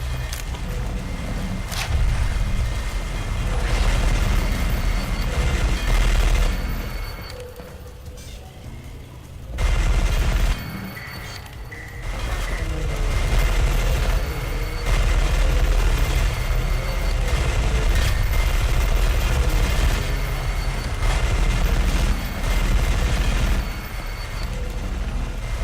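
Dense, sustained gunfire and booming blasts in the shooter game E.Y.E, loud and nearly continuous with brief lulls, layered over a constant rumbling battle soundscape.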